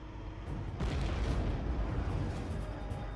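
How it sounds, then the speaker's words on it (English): A TOW anti-tank missile launches from a stationary Bradley fighting vehicle, a sudden loud roaring blast that swells into a sustained, rumbling whoosh as the missile flies off. "Okay, missile away."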